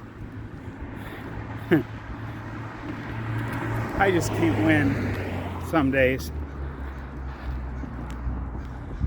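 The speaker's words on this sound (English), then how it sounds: "we have a bunch of cars go by." Several cars pass by outdoors in a steady broadband road rush that swells and lingers for the whole stretch, with someone talking over it.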